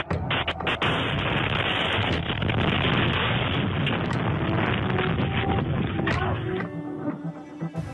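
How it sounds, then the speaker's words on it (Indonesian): A loud, sustained roaring rumble with crackling bursts from a rocket explosion in an attack on northern Israel, followed by fire, fading slightly near the end. "Serangan ini menyebabkan ledakan besar dan kebakaran."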